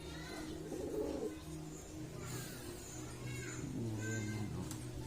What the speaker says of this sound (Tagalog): Naghahamunan talaga sila mga kalapatids.